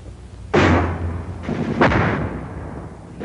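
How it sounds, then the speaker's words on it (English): Enemy mortar rounds slam down as high-angle fire on a WWII infantry position: two heavy, booming impacts about a second apart, each with a long rumbling decay, loud and close with no talking. "But the enemy has mortars, and mortar fire is high-angle fire which can slam down from the sky."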